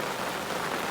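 Heavy rain pours down steadily at a fishing lake, a dense, even hiss of countless drops drumming on a nearby surface with no gaps.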